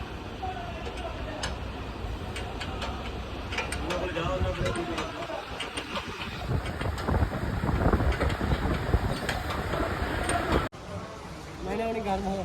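A New Holland 3630 tractor engine runs weakly, its steady low mechanical rumble mixed with wind buffeting and someone talking over it throughout, with a brief drop near the end.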